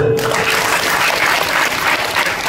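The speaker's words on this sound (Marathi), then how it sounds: "आता टाळी वाजवा" A burst of audience clapping at a devotional kirtan on Guru Purnima, dense and loud, filling the whole short stretch without pause.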